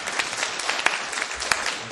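A seminar audience claps together in a steady, dense patter that lasts about two seconds, heard from within the room with no voices over it.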